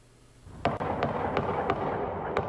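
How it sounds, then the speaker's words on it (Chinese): Gunfire from a gunman shooting into a church in Hamburg, Germany, captured in eyewitness news footage: about six sharp, distant cracks in quick, uneven succession over a steady background hiss. "见到枪手在教堂外面不断向内开枪，他在枪边徘徊，期间多次开枪。"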